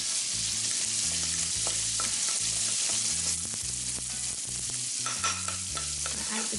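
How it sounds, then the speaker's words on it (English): Garlic frying in a pan beside carrots gives a steady, close sizzle with occasional stirring scrapes, heard alone over a low musical backing. "Add the garlic, cook that for just a little bit."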